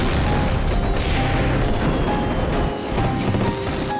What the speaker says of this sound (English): Moments later, another explosion sends debris flying.